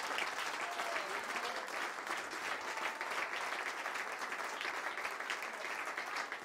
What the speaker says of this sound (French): donnez une acclamation au Seigneur